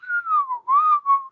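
A person whistles a short melodic tune imitating the Disney whistle, a rising and falling phrase in a few connected notes, clear and close with no other sound.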